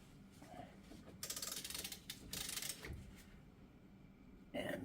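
A ratchet cranks during front axle work on a Jeep Wrangler, giving bursts of rapid metallic clicking in short runs with pauses between, close and faint, with no talking.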